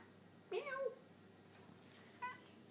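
A house cat meows near a kitchen fridge and cupboard, one clear close meow followed by a shorter, softer second call.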